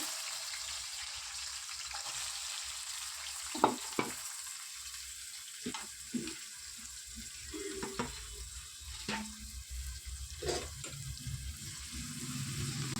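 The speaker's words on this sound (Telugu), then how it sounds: "బాగా ఫ్రై అయ్యేంత వరకు వేయించుకుందామండి. గోల్డ్ కలర్ వచ్చేంత వరకు కూడా మనం ఉల్లిపాయలు అయితే బాగా వేయించుకుందాము." Onions and curry leaves fry in oil for Telugu-style coconut rice, giving a soft continuous sizzle. It is broken by scattered stirring scrapes and clinks against the pan, and no one speaks.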